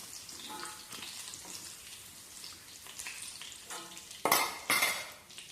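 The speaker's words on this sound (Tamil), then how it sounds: "சுறாவை இந்த மாதிரி கொஞ்சம் ஃப்ரை பண்ணி எடுத்துக்கலாம்." Pieces of shark fish fry in a pan with a soft, quiet sizzle, followed near the end by a couple of louder clattering knocks of utensils against the pan.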